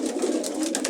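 Racing pigeons cooing close by, a brief soft rolling coo with a couple of quick pulses and no other sound.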